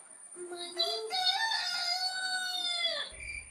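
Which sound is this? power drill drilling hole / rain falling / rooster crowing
rooster crowing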